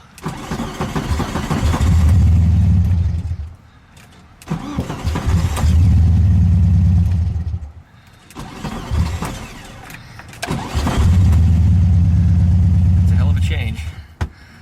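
A 1974 VW Beetle that runs badly cranks and catches in three long, loud bursts of rough engine noise separated by brief pauses, each surge holding steady before cutting out.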